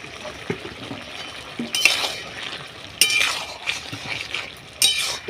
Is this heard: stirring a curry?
yes